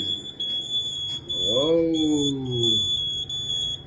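A workplace fire alarm blares a continuous high electronic tone with pulsing overtones throughout, while a person exclaims briefly in the middle with a rising-falling voice.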